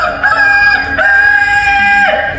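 A rooster crows loudly and close, one long drawn-out call with a rising start and a falling, fading finish.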